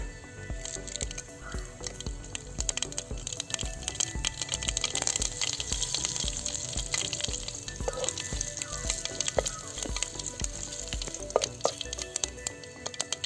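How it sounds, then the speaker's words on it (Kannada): Hot oil sizzles loudly and continuously as mustard seeds and curry leaves fry for a sambar tempering, seeds popping and crackling in quick bursts, with occasional stirring scrapes. "ಸಾಸಿವೆ ಹಾಕ್ತಾಯಿದ್ದೀನಿ ಬಸ್ಸಾರು ಒಗ್ಗರಣೆಗೆ"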